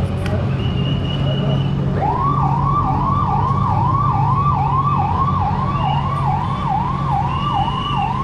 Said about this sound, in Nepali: प्रहरीले अब सबै पसलहरू बन्द गर्नको लागि साइरन लगाइसकेको छ